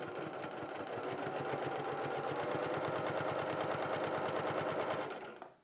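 A sewing machine runs steadily through a quilting seam, its needle ticking in a fast, even rhythm for about five seconds before winding down, close and alone with no talk.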